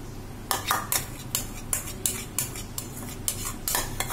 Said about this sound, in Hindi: ऐड करने के बाद हम चलाएंगे इसमें अच्छी तरह से चमचा